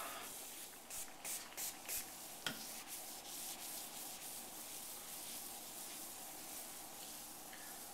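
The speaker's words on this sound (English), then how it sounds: "you want to spray and then take your fingers and roll it onto the edge of the stone" A few short spray bursts of stone sealer hiss near the start, followed by a steady soft rubbing and wiping sound on a granite countertop.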